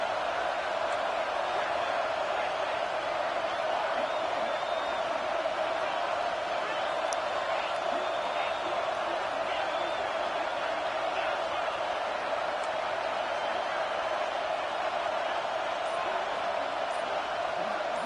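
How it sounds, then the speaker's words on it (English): Dense, steady roar of a packed football stadium crowd at an Oregon game, loud and sustained throughout with no pauses, the noise rising as the home fans force a false start. "And with this place rocking, the crowd forces a false start"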